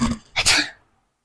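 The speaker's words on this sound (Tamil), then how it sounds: "தும்மல் தும்மலா போட்டு ஜலதோஷமே பிடிச்சிருவானே." A child sneezes during a sneezing challenge: one sharp, close burst after a short throaty lead-in, then silence.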